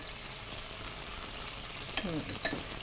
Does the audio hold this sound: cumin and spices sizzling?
yes